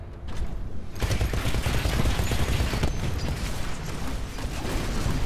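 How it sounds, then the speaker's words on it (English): Machine gun fire in the video game Titanfall erupts after a brief quiet start, a loud, sustained rattle of rapid gunfire with heavy booms mixed in, lasting to the end. "And our machine gun is really ineffective."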